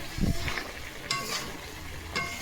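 Fish head tossed with garam masala in a hot pan, a dull scrape of stirring near the start and then a steady low sizzle with a few brighter clinks of the utensil against the pan.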